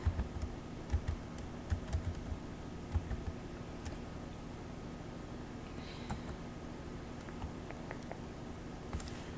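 Soft irregular tapping of a computer keyboard as a date is typed into an Excel cell, quiet clicks over a low steady hum.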